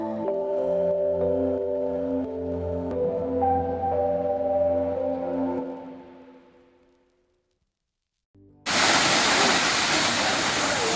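A waterfall rushes as a loud, steady, hissing roar that starts abruptly in the last few seconds, after a tonal hum fades into near silence.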